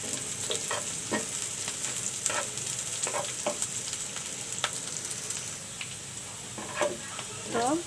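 Chopped onion frying in a pan of hot oil, a steady close sizzle with occasional stirring scrapes and clinks throughout, no talking.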